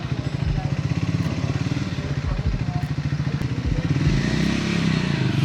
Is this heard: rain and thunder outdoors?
no